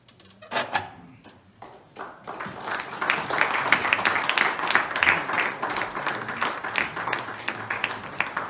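Audience applause at an award felicitation ceremony for a Retina Hall of Fame induction, opening with a few scattered hand claps before swelling into steady, dense clapping from a crowd that carries on to the end.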